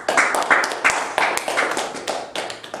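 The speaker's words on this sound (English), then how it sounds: "Give her a round of applause." A small group applauds after a youth speaker's talk, the claps sparse and uneven, with distinct individual hand claps standing out at a moderate distance.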